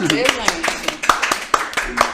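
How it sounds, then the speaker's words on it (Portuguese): A small audience on a podcast about the African diaspora and Afro-Brazilian identity claps in sharp, fairly regular hand claps, mixed with voices talking and singing over them. "As palmas, as palmas."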